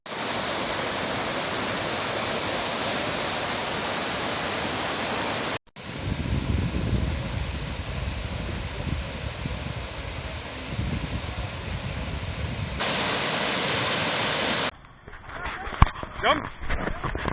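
Kaigal Falls, a waterfall near Bangalore, roars as a steady broadband wash of falling water close by. The roar cuts out abruptly twice and turns rougher and more splashy toward the end.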